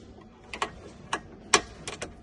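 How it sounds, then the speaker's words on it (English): A bolt being removed from an AXM1 nose, a series of faint, sharp metallic ratcheting clicks in an irregular rhythm, close and quiet. "So we're just going to remove that bolt."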